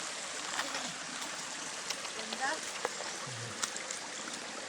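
Creek water flows in a steady, soft wash outdoors, low in level, with scattered clicks and brief voices speaking over it.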